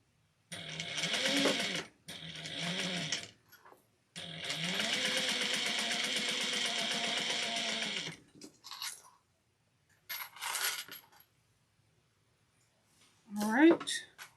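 A sewing machine stitches a tiny seam, about an eighth of an inch, to close a pocket on a Sallie Tomato Luci bag. Bursts of close, steady mechanical whirring run between short pauses, with a voice speaking near the end.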